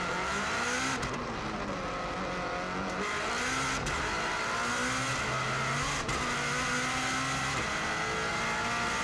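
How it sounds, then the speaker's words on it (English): A 2016 Subaru WRX STI runs flat out on the Isle of Man TT course, engine roaring loud and continuously with pitch swinging up and down through gear changes, plus a couple of sharp transient bursts around a tight right-hand corner. "we've got a real tight right-hander, gives me a chance to give the handbrake a little pull"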